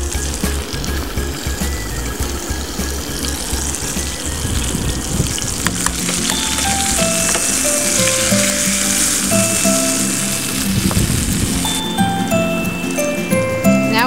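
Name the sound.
tomatoes frying and sizzling in a pan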